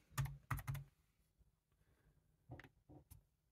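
Fingers tap a PIN on a computer keyboard at a desk, a quick cluster of three or four keystrokes, a pause, then a few more spaced taps, soft and near.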